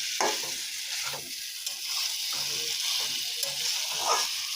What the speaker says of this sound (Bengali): সবজিটা দিয়ে এটা নাড়তে থাকবো